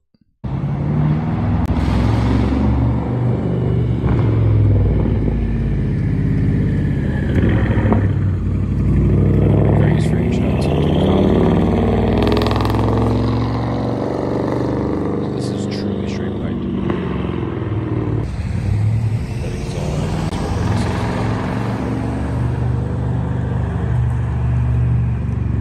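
A loud, raspy straight-piped exhaust from a BMW Alpina B7 (F01, 2011-2015) drones and swells throughout, rising and falling with throttle as the car drives, with traffic-like road noise around it.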